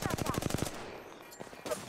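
Rapid automatic gunfire in the battle royale video game Apex Legends, a quick burst of evenly spaced loud shots followed by fainter scattered fire and game noise.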